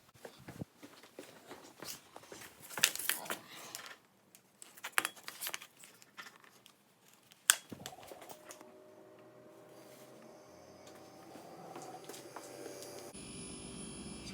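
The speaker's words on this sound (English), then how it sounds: "Sounds like compressor's on." A GE Profile refrigerator with a cooling fault starts its compressor partway through, after quiet shuffling and handling noises. A low, steady hum then sets in, faint and even, with a thin high-pitched whine above it.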